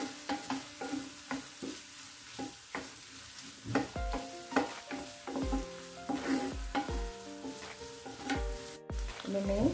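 Paneer tikka masala ingredients fry in a pan until golden brown, giving a steady sizzle under repeated clanking, scraping strokes of a spoon stirring against metal, close and fairly loud.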